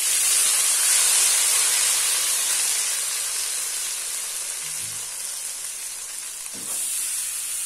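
A hot oil tempering sizzles loudly and steadily as it is poured into Punjabi kadhi pakora curry in a pot, a continuous bright hiss with a faint clink of utensils near the end.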